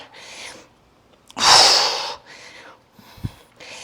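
Breathing during a push-up workout: a loud, close forceful exhale lasting about a second stands out, with softer breaths before and after and a brief low thump near the end.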